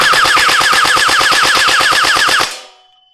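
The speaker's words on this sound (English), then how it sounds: "Let's shoot a little bit." A toy YaGee DGR gel ball blaster fires in a rapid full-auto burst of about twenty evenly spaced, close, loud shots over two and a half seconds, then stops with a short fading tail.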